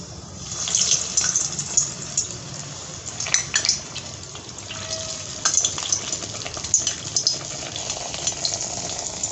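Medu vada dropped into hot oil over a high flame set off a steady bubbling sizzle, broken by scattered clinks and splashes of a utensil, close and continuous with no voices.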